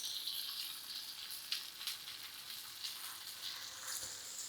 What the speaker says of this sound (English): This is hot enough. This is going to sizzle.